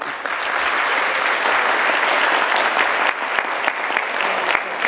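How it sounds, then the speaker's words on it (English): A school PTA audience applauds panelists at a middle school transition event, with loud, sustained, even clapping from a sizable crowd that fills the whole stretch without any talk over it. "I would love to give our panelists a round of applause"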